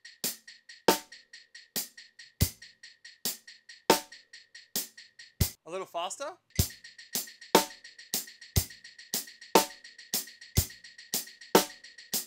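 Crisp hi-hat ticks in a steady, uneven loped rhythm of four-and-three subdivisions with periodic louder accents, briefly interrupted by a short spoken phrase before the pattern resumes.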